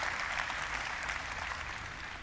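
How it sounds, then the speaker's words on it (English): Crowd clapping at Ubisoft's E3 2019 conference, a dense, even patter of applause from a large audience that holds steady and fades slightly toward the end. "They got that one crowd that's obviously gonna clap."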